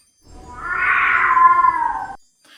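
A single drawn-out, wavering cat yowl rising and falling for about two seconds, loud and close against silence, representing the monstrous Icelandic Christmas cat.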